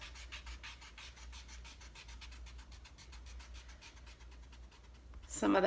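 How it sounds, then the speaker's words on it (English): A pencil eraser rubs across a fashion drawing on paper in quick, steady back-and-forth strokes, close and continuous, ending with a brief louder bump. "I'll start to erase some of these lines in the actual picture"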